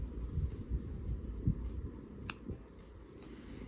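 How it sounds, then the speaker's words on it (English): Scissors snip through crochet yarn with one sharp, close click, set against a quiet room hum and faint handling sounds. "We're going to cut our yarn."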